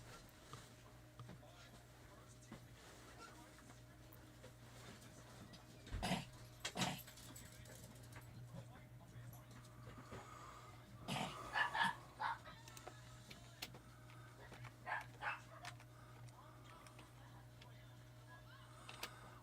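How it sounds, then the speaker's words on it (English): Several dogs bark in short, scattered bursts, faint and distant against a steady low background hum. "the dogs are barking"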